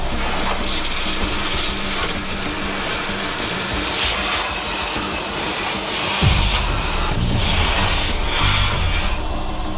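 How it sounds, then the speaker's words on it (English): A pump drains rinse emulsion from a machine tank after flushing, giving a loud continuous mechanical rumble and watery rush that shifts to a deeper, fuller drone partway through. "After flushing for 30 minutes, pump out all the rinse emulsion."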